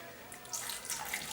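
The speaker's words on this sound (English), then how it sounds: "I'm going to start, I think, with just a little bit more water, maybe about a cup" Water pours into a vegetarian stew pot on a wood stove, a soft, fairly faint continuous splashing trickle that grows a little fuller partway through.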